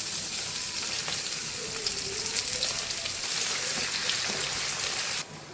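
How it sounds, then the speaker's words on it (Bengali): Cumin seeds, a split bay leaf and chopped onion sizzle in hot oil, a dense continuous hiss and crackle that runs steadily before cutting off abruptly near the end. "এবার ফোড়নে দেবো সাদা জিরে, তারপরে দেবো একটা তেজপাতা দুভাগ করে কাটা, দিয়ে দেবো একটা পেঁয়াজ কুচিয়ে নিয়েছি"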